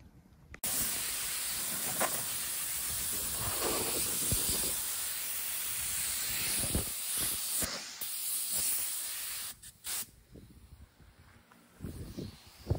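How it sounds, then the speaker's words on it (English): An aerosol of adhesion promoter is sprayed over the interior of a Monte Carlo SS G-body car, a steady loud hiss running for about nine seconds, then several short bursts near the end. "Just finished the first coat of the adhesion promoter, and it's real light."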